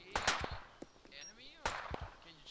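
Gunfire in a military shooter video game: a quick cluster of sharp shots, a pause, then another short pair of cracks, with a faint voice in between.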